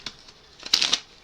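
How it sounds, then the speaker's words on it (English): A deck of Onirim game cards is shuffled close by, with a soft riffle, a brief rattling burst in the middle and a quick snap at the end, with no voices. "shuffle the deck"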